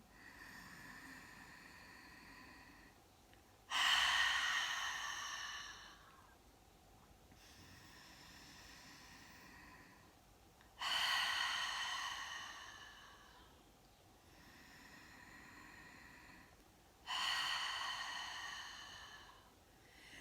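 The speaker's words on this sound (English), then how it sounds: "exhaling with the sound ah coming through the back of your throat" Three slow, loud breaths drawn through a constricted throat, each a raspy, ocean-like rush, spaced several seconds apart with quiet in between.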